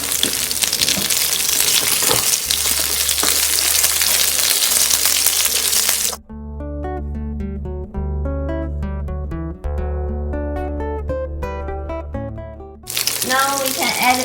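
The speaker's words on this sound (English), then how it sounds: "Stir fry it too" Pork belly stir-fries with a whole spring onion and thick slices of ginger, giving a loud, dense sizzle for several seconds before music takes over, then a brief return of sizzling.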